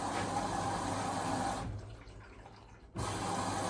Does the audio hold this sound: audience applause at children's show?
no